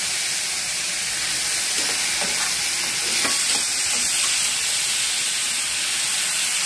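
Green chillies and grated amla (Indian gooseberry) are sautéed in a pan for amla rice, making a constant loud sizzle with scattered stirring scrapes and clicks, and no voices.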